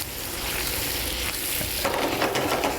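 Shrimp hitting a hot pan on high heat for a risotto milanese, giving a steady close sizzle that grows louder and brighter partway through, with no talking.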